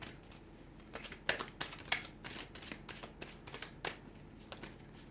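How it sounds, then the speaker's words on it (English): Tarot cards being shuffled nearby, a quiet run of crisp riffles and soft snaps at an uneven pace, with no talking. "I'm going to give the cards a shuffle"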